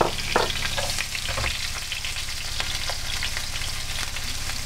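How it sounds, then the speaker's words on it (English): Onion and garlic with pandan leaves and cinnamon fry in a tablespoon of oil in a pan, a steady close sizzle running throughout with a few soft stirring scrapes near the start. "Cook this until the aroma comes out of the onion and the garlic."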